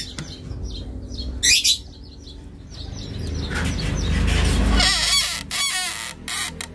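Backyard fowl call out near a coop where eggs have been laid, a few honking, squawking cries rising over rustling and some wing flaps, fairly close and moderately loud.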